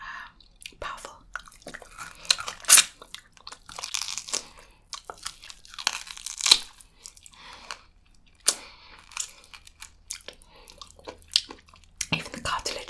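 Close-up chewing on the thick cartilage of a large turkey thigh: wet, irregular crunches and squelchy bites, some sharp and loud, with quieter slurpy pauses between them.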